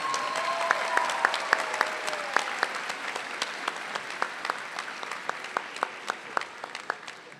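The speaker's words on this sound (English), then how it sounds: "I think it would be fitting for a round of applause for Karen and Margarita" Audience applause at a dental school white coat ceremony for the class of 2027: a sustained wash of many hands clapping, with sharp individual claps standing out, a few brief voices over it, steady throughout and fading slightly toward the end.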